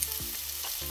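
Chicken pieces sizzle in a pan while being lightly browned for a Gilani sour chicken stew, a steady close frying hiss with a few scraping stirs and no voices.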